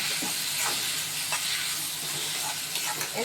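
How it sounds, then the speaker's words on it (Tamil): Tomatoes with chili powder sautéing in a pan for a mushroom gravy produce a soft, steady sizzle and hiss, with faint stirring scrapes close by. "அதையும் போட்டு கொஞ்சம் மிளகா தூள் போட்டு நல்லா வதக்கி விடணும்"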